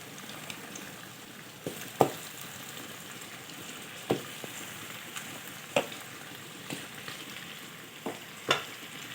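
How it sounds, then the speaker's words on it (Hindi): Beef kofta frying in masala sizzles steadily in a pan, with sharp spoon scrapes and clacks from stirring recurring about every two seconds, close and alone with no talk. "ये तो अब हम इसको इसमें डाल के भूनेंगे मसाले के साथ।"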